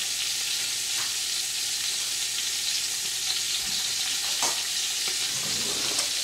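Sausage sautéing and browning in a pan gives a steady, dense sizzle that runs the whole time, with a few faint clinks and scrapes rising briefly above the frying.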